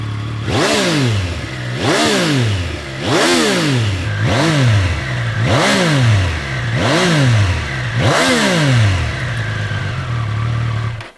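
Triumph Tiger Sport 800 inline-triple motorcycle engine revved hard and repeatedly, about seven loud rising-and-falling blips in a steady rhythm, each climbing to a snarling peak and dropping back to idle, with no talk.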